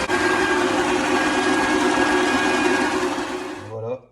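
A stand mixer with a dough hook kneads savarin dough with a loud, steady motor whir and rhythmic churning that runs without pause and then cuts off abruptly near the end.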